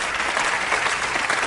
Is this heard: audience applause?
yes